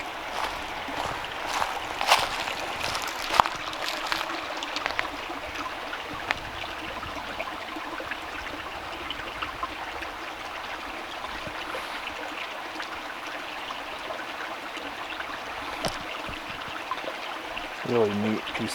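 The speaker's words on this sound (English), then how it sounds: "this is one heck of a raging small river and waterfall. Comes down the mountain here." A small mountain river and waterfall rush steadily, a continuous bright hiss of tumbling water heard close by, with occasional light knocks and a faint voice late on.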